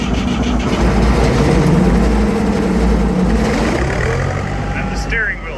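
An old swather's engine runs loud and close, a steady low rumble that holds for several seconds before easing off, with a brief higher whirring sound near the end.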